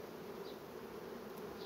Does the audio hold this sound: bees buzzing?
yes